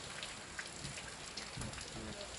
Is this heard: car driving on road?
no